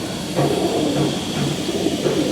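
Soft, repeated pigeon cooing in a low rhythmic pattern, close by, over a steady background hum.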